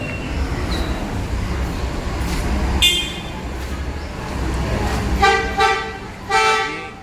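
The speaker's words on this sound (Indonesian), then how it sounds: "Lagi ngecek klakson." A Rosalia Indah bus horn toots several times in short blasts over a rumbling engine idle, loud and close, with the last honks longer and stronger.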